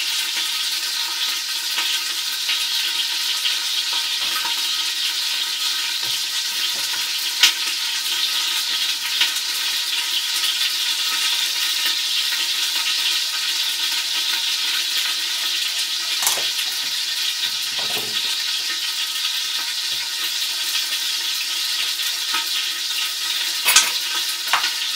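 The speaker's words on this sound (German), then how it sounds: "Muss das Fleisch jetzt ein bisschen mischen." Chicken meat for plov frying steadily in a pot, a continuous bright sizzle with occasional scrapes and clinks as it is stirred now and then; no voices.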